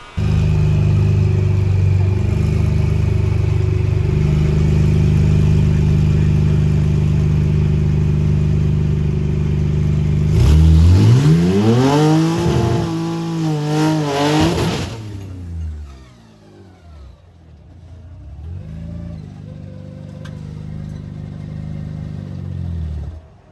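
A drag race car with a Hurricane engine swap runs on nitrous, roaring loud and close at a steady pitch before a hard rising rev, then dropping back to a rough idle and building again, with no talk.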